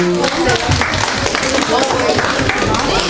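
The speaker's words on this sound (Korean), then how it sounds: "네, 박수." Dense, steady applause from a room of students after a debate practice round, many hands clapping together closely and loudly throughout.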